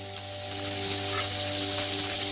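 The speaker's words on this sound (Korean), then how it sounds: "양파를 볶아주세요." Onions fry in olive oil in a pan with a dense, steady sizzle that stays even and close throughout, with no voices.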